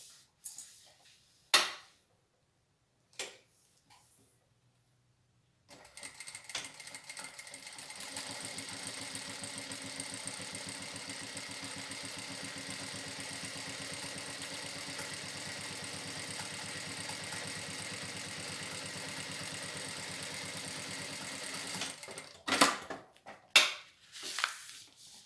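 A sewing machine topstitches a faux leather seam on a toilet paper holder, running in one long, steady, even hum for about seventeen seconds after a few scattered knocks, with handling clatter at the end.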